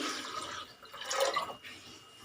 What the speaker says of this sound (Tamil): சுண்டல் மூழ்கிற அளவு தண்ணி ஊற்றி